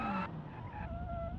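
A boxy donk-style car built in the Automation car-design game screeches its tires in a sharp skid as it loses control and rolls over. A lower engine drone carries on afterward.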